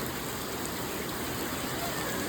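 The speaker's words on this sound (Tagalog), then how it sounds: "Ulan na naman, mga friends ko dyan." Steady rain falls through an evening in the Philippines, a dense even hiss with no breaks that holds at the same moderate level from start to finish.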